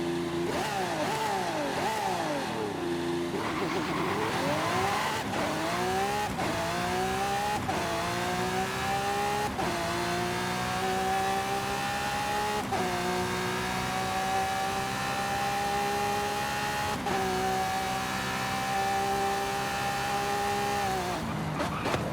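A naturally aspirated Lamborghini V12 racing in Forza Horizon 5, loud and close, revving through repeated upshifts with pitch climbing steadily then dropping at each gear change, continuous engine howl with no talk.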